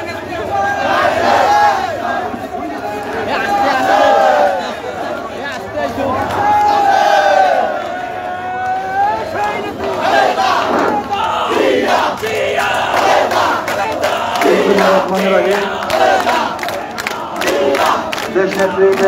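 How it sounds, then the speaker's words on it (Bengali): A large crowd chants political slogans in unison at a protest rally in Bangladesh, loud and close, with rhythmic shouted call-and-response phrases carrying on continuously. "স্লোগান ধরো আস্তে আস্তে স্লোগান ধরো"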